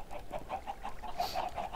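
Blocky chickens on a chicken farm in Minecraft clucking in a quick, steady run of short repeated calls, close and moderately quiet.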